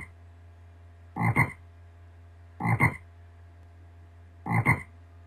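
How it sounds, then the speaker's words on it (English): Three evenly spaced frog croaks from a children's fishing video game, each a short raspy burst, with near silence and a faint low hum in between. "Try and catch the frogs as they hop about."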